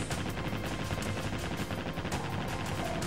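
Machine gun fire in the naval combat game Naval Ops: Warship Gunner 2 makes a dense, continuous rattle of rapid shots. The fire is steady and fairly quiet, with no voices.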